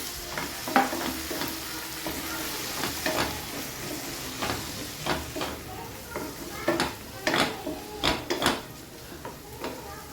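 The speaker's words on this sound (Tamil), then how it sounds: "இப்போ ஒரு 2 நிமிஷம் போல் மசாலாலாம் ஃப்ரை ஆகிடுச்சு" Spice masala frying and sizzling in oil in a pan, with a spoon stirring and scraping in sharp clinks and scrapes throughout, close up and busy.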